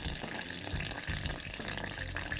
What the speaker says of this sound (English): Pour your water in slowly.